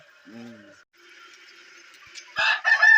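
Roosters readying to fight crow and cluck nearby, with a brief low squawk early on and louder, rougher crowing building toward the end amid faint background noise.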